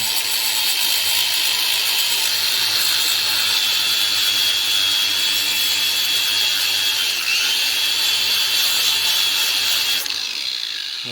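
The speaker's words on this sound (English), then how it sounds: "what I'm using to prep is just a flap disc and my angle grinder" An angle grinder fitted with a flap disc sands powder coat off metal, giving a loud, continuous high-pitched whine with grinding rasp throughout, easing off at the very end.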